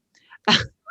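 One person gives a single short, close sneeze after a brief faint intake of breath, with no talking around it.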